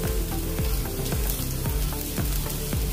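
Onion, carrot, capsicum and cabbage frying in a pan for veg Manchurian, a dense continuous sizzle with rhythmic low stirring knocks repeating about twice a second, close and steady, without speech.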